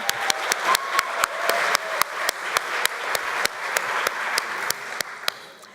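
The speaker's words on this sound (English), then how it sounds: "Big applause, everyone!" Audience at a grand-final competition claps in unison for teams reaching round 3, sharp rhythmic beats about four per second over a bed of scattered applause, fading slightly toward the end.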